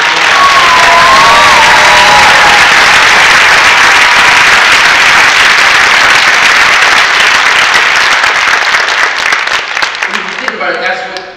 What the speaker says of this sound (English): So let's give Matthew a round of applause.